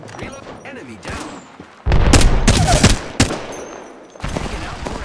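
Bursts of automatic gunfire in an Apex Legends squad fight, a loud sustained volley of rapid shots with thumps, quieter scattered shots before and after, and players talking alongside.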